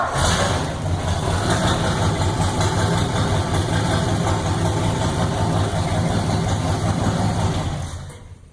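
An old Ford Y-block V8, freshly revived after decades parked, idles steadily with a rough, loud, close rumble for several seconds before the sound tapers off at the end.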